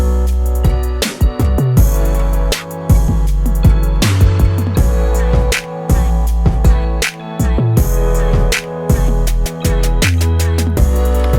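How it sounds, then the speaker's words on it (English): A full song production mix of synths recorded in Nashville with piano, bass and drums plays loud and steady, with punchy rhythmic drum hits over sustained chords and a deep bass line. No one speaks. "you have all of the synths I recorded in Nashville with the piano, the bass, the drums"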